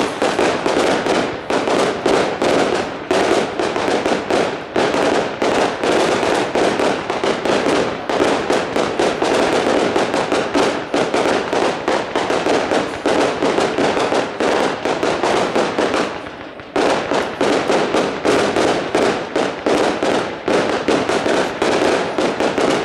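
A 200-shot firework battery fires rapid, continuous bursts, brocade crowns turning to red strobes, in a dense crackling barrage with one brief gap midway before the volley resumes at full loudness.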